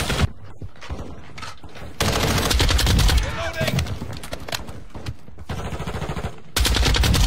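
Lachmann 762 rifle in Modern Warfare 2 firing in loud, dense automatic bursts, with short pauses between sustained volleys and a voice talking over parts of it.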